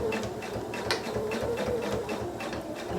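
Sewing machine stitching fabric slowly up to a pin, a steady close mechanical whir with a fast rhythmic needle chatter running throughout without a break.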